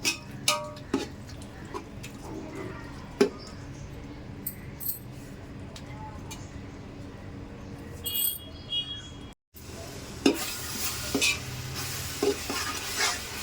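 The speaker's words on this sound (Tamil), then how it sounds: "தக்காளி நல்லா வதங்கட்டங்க. அது வதங்கினா தான் நல்லாயிருக்கும்." Tomatoes sauté and sizzle in a pan while being stirred for mutton biryani, with a steady frying hiss under intermittent scraping and clinks of a spoon against the pan.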